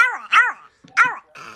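A small dog gives a few short, high, squeaky yipping barks in quick succession, close and clear, with a brief pause between bursts.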